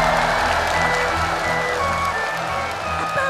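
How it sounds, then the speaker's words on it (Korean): Children and families in a studio audience at a children's TV show spring festival clap steadily, with dense, continuous applause over background music. "자, 우리 친구들, 꾸러기들을 위해서 박수!"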